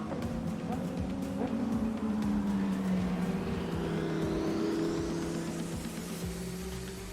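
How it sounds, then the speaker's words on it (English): A GT race car at Sepang circuit roars close by in qualifying, its engine note rising and falling as the driver goes on and off the throttle, with a steady high whine over the loud blare and voices faint beneath. "He's going on and off on the throttle there."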